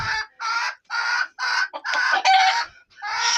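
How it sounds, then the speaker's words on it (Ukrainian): Chickens clucking in a quick run of short, loud bursts close by, with a young rooster's strained crow mixed in. "зловити тільки пару молодих півника і курочку"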